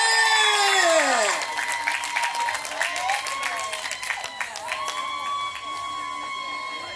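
A crowd at an outdoor Indigenous cultural carnival applauds and cheers to welcome a singer, with dense clapping, high shrieks and whoops that rise and fall over a sustained roar, close and loud.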